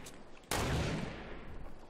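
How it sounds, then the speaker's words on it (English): Gunfire in Fortnite Battle Royale: a sudden sharp burst of shots that rings out and decays into a scattered crackle of further distant firing. "I see him shooting at you."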